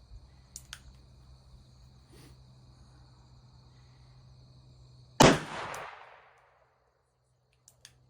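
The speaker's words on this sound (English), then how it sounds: "We'll go ahead and shoot another 6 shots and see what we get." A single sharp revolver shot from a Manurhin MR firing a .38 Special reload with Hornady 158-grain XTP bullets, a loud crack with a brief decaying tail, preceded by faint ticks and a low hum and followed by near silence.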